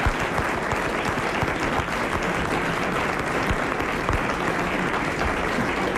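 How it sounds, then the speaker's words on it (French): A radio studio audience applauds steadily and densely for the whole stretch, a full room of clapping hands without a break and with no voices on top. "À la radio, ils applaudissent."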